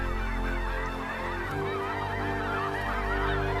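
A flock of geese honks continuously at fairly close range, with overlapping calls filling the whole stretch and no voices.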